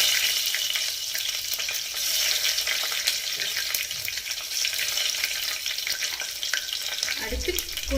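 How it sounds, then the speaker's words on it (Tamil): Fenugreek seeds and dried red chillies fry in hot oil in a pan, giving a steady close crackling sizzle throughout with a faint clink near the end. "இது நல்லா பொரியட்டும் இது பொரிஞ்சிருச்சு இப்போ இதில் 4 வரமிளகாய் போடலாம்"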